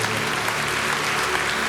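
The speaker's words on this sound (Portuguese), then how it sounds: "Aplauda ao Senhor." Church congregation clapping during a worship service, a dense, steady burst of applause filling the room for the whole moment, with faint musical tones underneath.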